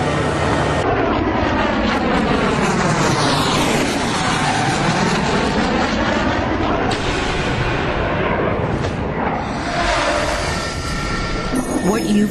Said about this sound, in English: I thought he was taxiing awful fast.